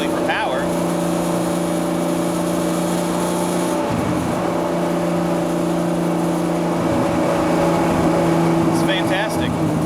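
1978 Datsun 280Z engine pulling steadily while driving, a loud continuous drone with a brief dip as it shifts, heard from inside the car.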